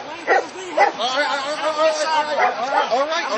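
German Shepherd police dogs bark and yelp repeatedly at close range, a busy run of overlapping barks and whining yips, with voices mixed in.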